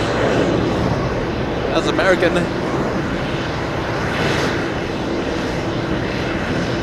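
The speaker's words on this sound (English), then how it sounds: "American 66 heading to Barcelona. That's a 7-hour flight for that 777." An American Airlines Boeing 777 bound for Barcelona from JFK airport, its engine roar steady and fairly loud, with a brief burst of voice midway over the continuous rumble.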